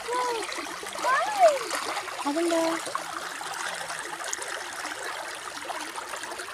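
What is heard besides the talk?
flowing stream water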